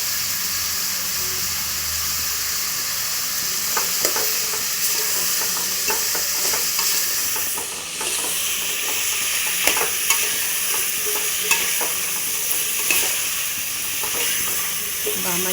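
Ginger garlic paste sizzles in a hot pan while cooking Telangana pappu charu, a loud, continuous frying hiss with repeated scraping taps from stirring throughout.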